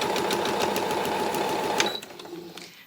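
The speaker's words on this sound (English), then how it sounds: "And I just keep sewing in a chain." A sewing machine runs steadily while chain-stitching the sides of an autumn quilt, its rapid mechanical whir continuing for almost two seconds before stopping and leaving quiet room noise.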